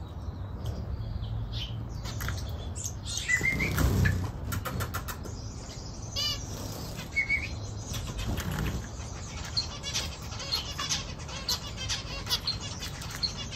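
Doves in a cage coo softly at moderate distance while wings flap in brief bursts, with scattered chirps and faint background noise throughout.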